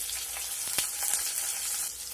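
Steady sizzling of onions and green chilies frying in hot oil with lentils and seasoning seeds, with a few soft clicks of stirring, no voices.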